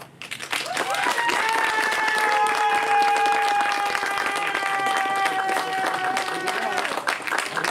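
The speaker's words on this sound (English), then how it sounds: "Keep that applause going for Aiden Yang." Audience applause after a reading at a poetry event, a sustained wash of loud clapping from a crowd, with cheering and a voice speaking over it before it fades out.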